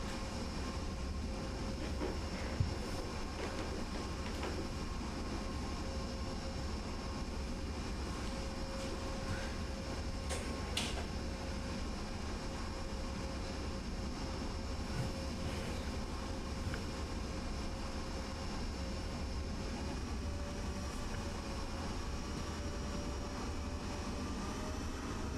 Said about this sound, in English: we'll watch this Lufthansa CT take off first